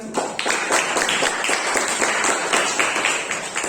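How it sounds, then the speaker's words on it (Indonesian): A classroom of students applauds at the end of a food-processing lesson, a sustained stretch of rapid, overlapping hand claps that stays busy and fairly loud throughout. "Boleh tepuk tangan"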